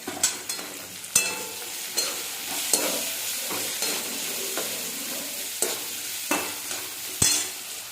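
Gosavale (ridge gourd) frying in oil with turmeric and salt: a continuous sizzle punctuated by repeated scraping stirs and knocks of a spatula against the pan, close and fairly loud, no voices.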